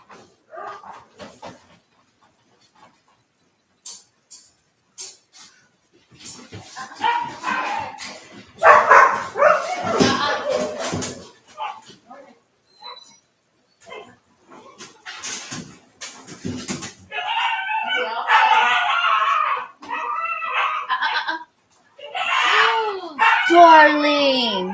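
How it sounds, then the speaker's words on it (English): A puppy barks and yips in short, scattered bursts at close range, mixed with someone talking and other household noise. "Y'all hear that? That's that puppy."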